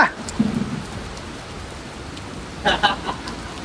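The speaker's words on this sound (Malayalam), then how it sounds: "കിടില മഴ പെട്ടെന്ന് പെയ്തു" Sudden rain begins, pattering down steadily in a soft wash of hiss, with faint voices and scattered clatter breaking through now and then.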